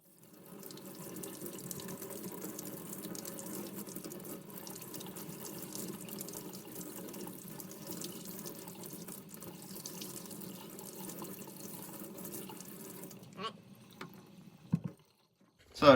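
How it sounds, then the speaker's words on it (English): Water runs steadily from a tap at the sink beside a Whirlpool washer for about thirteen seconds as an even, close hiss. It stops abruptly, followed by a few clunks and knocks. "I can turn on the water here."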